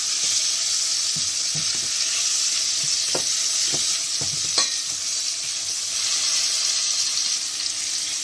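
Flour browns in a pan with meat for an Algerian mtewem tagine, a loud steady sizzle with scattered scraping knocks as it is stirred, close up and without speech.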